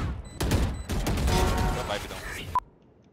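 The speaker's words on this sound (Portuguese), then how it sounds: "Tá atirando na smoke aí" Gunfire in a team shooter video game, fired into a smoke cloud in rapid, dense bursts that cut in and out, loud and close, with a player's voice speaking over it.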